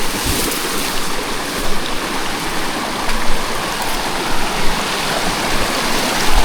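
Clear mountain river on Mount Argopuro rushing steadily over rocks, a continuous broadband wash of flowing water heard close and loud, with small surges but no voices.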